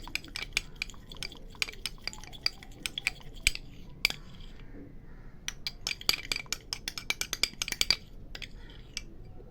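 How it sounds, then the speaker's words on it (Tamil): Rapid clinks and scrapes of a spoon working a thick green gram, curd and coffee face pack in a bowl, irregular tapping strokes close up and fairly quiet, with a few brief pauses. "இப்போ நான் இது நல்லா கலக்கிக்கணும்."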